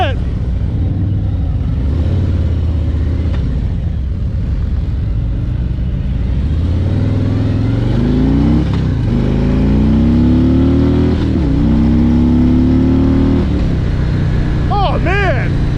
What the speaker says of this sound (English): this bike gets up and goes. It sounds great while doing it.